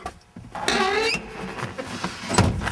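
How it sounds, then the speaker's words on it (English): An old seat in a 1968 Camaro RS SS lets out a short, high rubbing squeak with a creaking, grinding edge, close up and alone with faint movement noise around it. "it's definitely a vintage 1968 squeak that goes with it."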